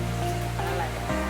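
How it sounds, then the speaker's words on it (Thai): Heavy rain pours steadily in Chiang Mai as a dense, continuous wash close by, and a voice is faintly audible under it. "ฝนตก แล้วขึ้นแรงขึ้นเรื่อยๆแล้ว"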